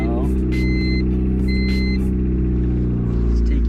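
A Honda Civic EK hatchback with a D16 engine idles with a steady low rumble and a slight rise in revs, while a person speaks over it.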